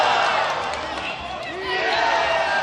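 Loud crowd cheering at a combat-sport fight night, a dense continuous roar that dips briefly mid-clip and then surges back, filling the space around the arena.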